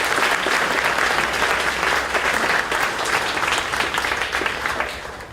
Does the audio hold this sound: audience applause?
yes